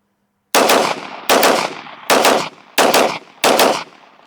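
A Glock Gen 3 pistol fitted with a PR trigger fires five sharp, loud shots at roughly even intervals, each crack trailing into a brief echo, with no talk.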